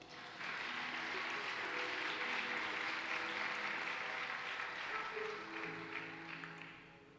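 A church congregation applauds Jesus Christ during a worship service, sustained dense clapping from many people swelling quickly and holding steady, then easing slightly toward the end, with faint voices or music tones underneath.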